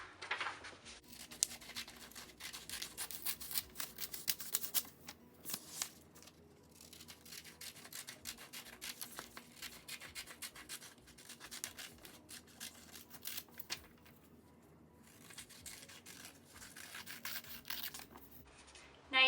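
Scissors cut out a paper pattern for a felt rainbow craft, making faint, soft, continuous snipping and rustling close by, with no talking.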